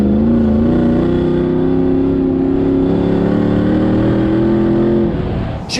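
A heavily modified Land Rover Defender accelerates hard, its engine note rising and holding a loud, steady roar close by for about five seconds before easing off.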